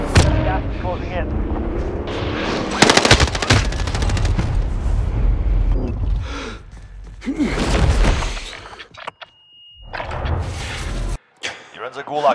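Machine gun fire in a video game: rapid bursts of loud shots and explosive blasts, heavy at first and then thinning into scattered shots, with a voice talking under the battle noise.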